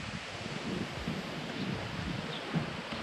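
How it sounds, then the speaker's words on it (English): A low, steady wind blows outdoors in a yard, with faint buffeting against the microphone and a soft rustle throughout. "So kind of windy out."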